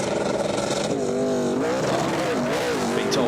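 Toyota Tundra NASCAR pickup truck revving hard at the Goodwood Festival of Speed, a loud, raw V8 roar rising and falling in quick throttle blips at close range, with a crowd murmuring underneath.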